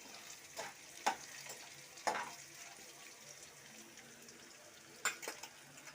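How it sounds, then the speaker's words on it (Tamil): Curry leaves sauté in oil with fennel and garlic, a faint soft sizzle punctuated by several sharp spatula scrapes and clacks against the pan, no speech. "இப்போ கருவேப்பிலை ஒரு 1 நிமிஷம் விட்டு வதக்க விட்டாச்சு"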